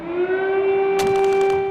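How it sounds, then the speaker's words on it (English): An air raid siren holds a sustained droning tone throughout during the Russia-Ukraine war, loud and continuous, with a burst of crackling noise partway through. "as emergency air raid sirens wailed"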